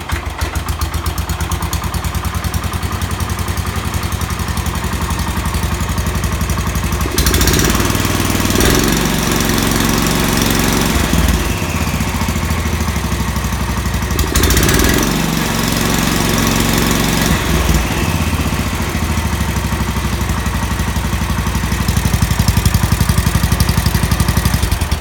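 A 1966 John Deere 110 lawn tractor engine runs at slow throttle with no choke, a loud, close, steady single-cylinder chugging drone that holds throughout with slight shifts in tone, no voices present.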